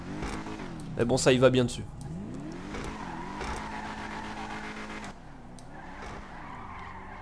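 Albany V-STR car engine in GTA Online, a deep droning hum with revving swells and a brief tire squeal early on, running steadily beneath someone speaking French.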